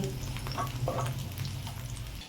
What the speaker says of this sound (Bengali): এই মাছের তেলের মধ্যে এইরকম সাইজের আলু কেটে নিয়েছি, একটা বড় সাইজের। এই আলুগুলো আমি ভেজে নেব।